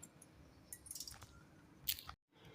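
Idli batter mixed with rock salt for dosa gives soft, quiet wet squishes and sloshes in irregular bursts, with no talking.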